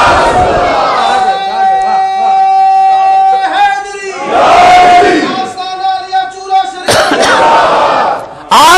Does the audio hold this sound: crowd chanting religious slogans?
yes